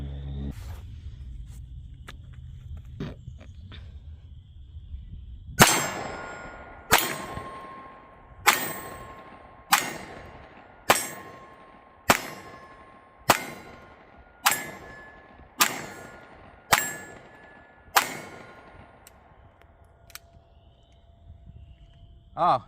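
Ruger LCP Max .380 pistol firing Winchester rounds: about thirteen sharp shots in a steady rapid string with ringing decay, after a stretch of quiet handling noise, loud and close.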